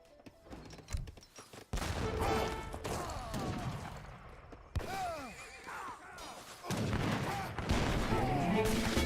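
Heavy cannons in Age of Empires 3 pound in scattered booming volleys amid clanging battle noise, with a commentator talking in between.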